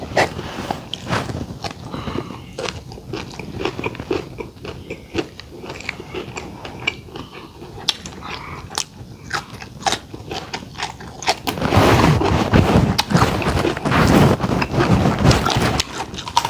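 Someone eats crispy deep-fried pork served with spicy papaya salad, with repeated close crunches and chewing across the clip. Wind and rustling noise run underneath and grow louder near the end.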